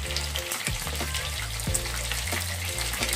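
Chicken lollipops fry in hot oil in a kadai, a loud steady sizzle with spoon scrapes and thumps as the pieces are flipped over.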